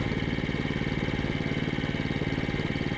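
A lawn mower power-raking dead grass on a back lawn runs at a steady, loud mid-pitched engine drone with a fast rhythmic chug, close by and continuous throughout.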